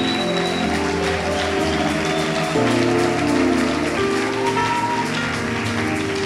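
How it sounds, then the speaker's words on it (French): A church congregation at a French-language sermon applauds continuously in a steady, dense patter, the clapping mixed over sustained music throughout. "Tes acclamations ne sont pas en train de me convaincre."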